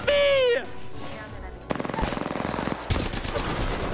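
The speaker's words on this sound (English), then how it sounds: "He's shooting at me!" Rapid automatic gunfire in the shooter game Apex Legends, sharp repeated shots in quick bursts following a short shouted voice, with another burst near the end.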